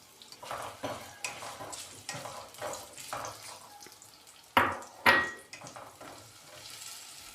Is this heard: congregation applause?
no